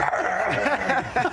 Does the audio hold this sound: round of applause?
no